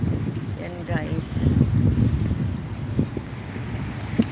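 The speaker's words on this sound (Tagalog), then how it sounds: "Mahangin kasi." Steady wind blows at sea from a boat, a broad continuous rush with microphone buffeting that holds through the whole stretch, while a voice talks over it.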